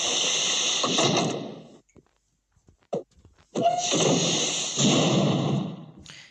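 A heavy mechanical door in the video game SCP: Secret Laboratory slides open with a loud, broad whooshing hum. It runs twice, separated by a quiet gap that holds a couple of small clicks and thuds.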